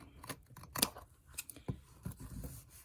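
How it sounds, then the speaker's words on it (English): Scissors trimming paper for a composition book cover: a few short, quiet snips and paper rustles at an uneven pace, close and soft. "We'll just trim this where the tab is going to be."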